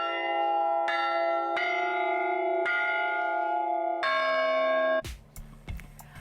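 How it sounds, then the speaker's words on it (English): Large bronze bells cast at a bell foundry in Agnone, Italy ring out in a series of loud, sustained struck tones, five strikes each left to resonate, followed by a couple of sharper, clangier hits at the end. "Artisanal knowledge that's keeping the music of bells alive throughout the world."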